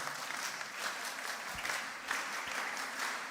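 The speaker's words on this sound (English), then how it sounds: "clap for her, clap for her." A crowd applauds a student at a mentorship session, steady dense clapping throughout, moderately distant and fairly quiet, with a faint voice briefly underneath.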